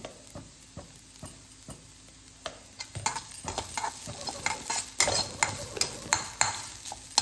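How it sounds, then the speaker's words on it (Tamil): Ground green chili, coconut and cumin paste sautéing in a pan for green gram sundal, with a soft sizzle under a spatula scraping and tapping the pan at irregular intervals. The strokes come more often and louder toward the end. "இது வந்து பச்சை வாசனை போகிற வரைக்கும் லைட்டாக வதக்கி விட்டாச்சு."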